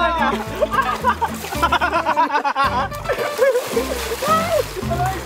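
Water splashes and sloshes as a group of boys start bathing, with lively chatter and chuckling running over the wet splatter throughout.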